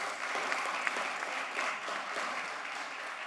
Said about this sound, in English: So if I can get a round of applause for everybody here